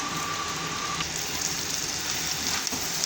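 Chopped capsicum (shimla mirchi) dropped into frying spices in oil, giving a dense, even sizzle that hisses steadily and close throughout with no voices.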